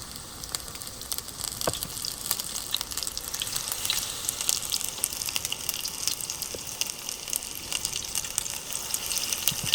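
Beer-battered onion rings fry in hot oil, a steady crackling sizzle with scattered pops, moderately close and without voices.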